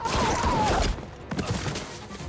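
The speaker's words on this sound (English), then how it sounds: "some guy charged in with dual Gatling guns blazing" Dual Gatling guns blazing during a movie battle, a loud, dense roar of rapid fire that briefly cuts out and then resumes as a rougher, slightly weaker barrage with rumbling impacts.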